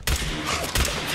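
Two loud, booming gunshots in the video game Fallout 4, about three-quarters of a second apart, with a dense, reverberant crack and no talking.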